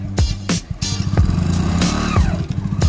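A nearby motorcycle engine revving and pulling away, its pitch rising and falling in quick surges.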